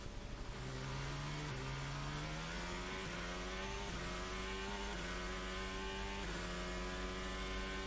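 Formula 1 car of Carlos Sainz at turn 19 of the Austin circuit during United States Grand Prix qualifying, its engine note climbing through gears in loud sustained harmonic sweeps, close and continuous with no talk.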